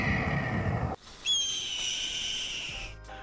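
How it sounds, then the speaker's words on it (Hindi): A red-tailed hawk's cry of the kind dubbed in for eagles in films: one loud, high, drawn-out screech that slowly falls in pitch. It follows a brief burst of other sound and rings out alone, with no talking. "ईगल की आवाज की जगह लाल पूंछ वाले बाज की आवाज बजानी शुरू कर दी"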